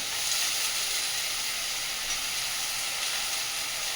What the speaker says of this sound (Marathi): आता वांगी बटाटे याची टाकते.